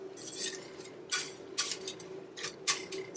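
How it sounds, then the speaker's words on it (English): An Abuelita chocolate tablet being whisked into milk in a pot, with quick bursts of metal whisk clinking and scraping against the pan in irregular strokes. "So I'm going to go ahead and just keep whisking away"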